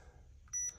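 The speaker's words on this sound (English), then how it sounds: "I got my timer on." Kitchen timer set during a coffee cupping session gives a quick pair of high electronic beeps, close and clear, after a stretch of quiet room tone.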